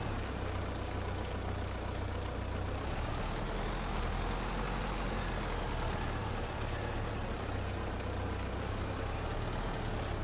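A tractor engine in Farming Simulator 22 drones at a steady, continuous rumble while lifting a heavy loaded front bucket, loud and constant throughout with no pauses or voices.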